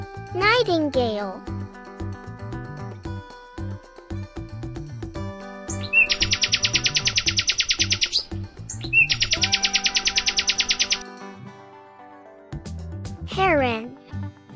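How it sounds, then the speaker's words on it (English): Nightingale song in a children's bird-names lesson: two long, loud bursts of rapid repeated trilling notes, set between stretches of spoken naming and other bird calls. "Nightingale."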